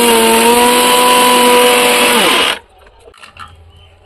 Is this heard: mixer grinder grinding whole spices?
yes